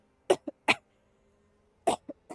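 Five sharp coughs from a person streaming a game: two quick coughs, a brief pause, then three more in a rough cluster, close and fairly loud against near silence.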